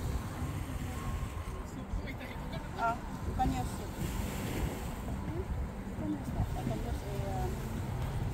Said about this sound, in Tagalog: ito ay hibas o high tide